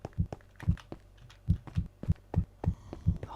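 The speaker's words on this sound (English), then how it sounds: "Heartbeat is picking up though." Heartbeat sound effect in a video game, a steady run of deep, thumping double beats repeating about twice a second over a low hum, close and alone with no talk.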